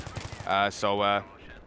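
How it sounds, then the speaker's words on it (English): Two short bursts of M16A3 rifle fire in Battlefield 3, loud and close, separated by a brief gap, with a low game background underneath. "I'm just gonna proceed back to picking off targets on range with the M16A3"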